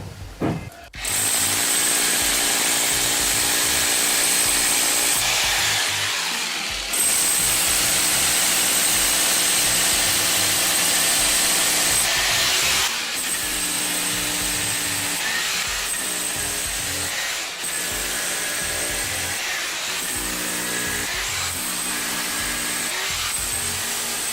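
Drilling holes in a part for a septic tank biodigester with an anaerobic filter, a steady loud power-drill whine running continuously with brief pauses and re-starts, no talking.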